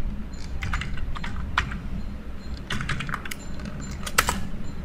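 Bursts of quick keystrokes on a computer keyboard as JavaScript code is typed, clustered in short runs with brief pauses between, close and clear against a low background hum.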